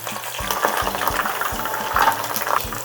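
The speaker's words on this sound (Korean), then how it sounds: "이렇게 기름에 넣어서 대파를 튀겨주면은 파기름이 나와서" Green onion tops dropped into reheated hot oil and fried to make scallion oil: a dense, continuous crackling sizzle at close range, with a soft low rhythmic thumping running underneath.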